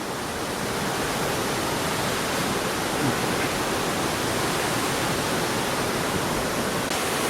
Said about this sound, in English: Class 2 rapids, maybe even 3s, to be honest with you.